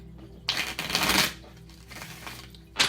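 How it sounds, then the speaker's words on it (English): A deck of tarot-style cards being shuffled by hand, two close, crisp riffling bursts separated by a quieter pause, with no talking. "I'm just going to go ahead and shuffle the deck."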